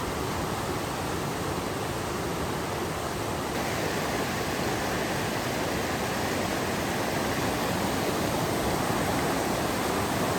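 The Zigzag River rushes past the shoreline at a campground, a dense, constant hiss of flowing water that stays loud and even throughout, with no voices over it.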